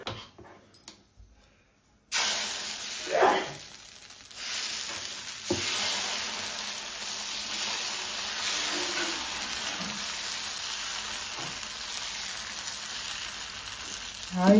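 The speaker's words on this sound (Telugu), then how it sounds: "ఇంకొక దోశ పోసి చూపిస్తాను" Dosa batter poured onto a hot pan bursts into a loud, bright sizzle after a quiet moment, then holds a steady hiss with a few soft scraping sounds, close and alone.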